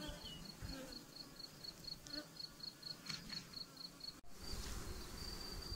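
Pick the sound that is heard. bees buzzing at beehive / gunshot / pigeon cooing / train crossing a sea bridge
bees buzzing at beehive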